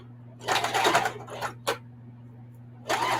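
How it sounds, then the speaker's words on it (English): A sewing machine stitches a small square box pattern onto a denim crossbody phone bag, running in close, loud bursts with brief stops between, over a steady low hum. "So I'm sewing a little square box on here, going up and down"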